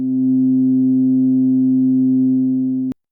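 Two sine waves run through a Behringer 172 phase shifter with the higher one cancelled, leaving a single steady pure tone that holds evenly for about three seconds before stopping abruptly with a faint click.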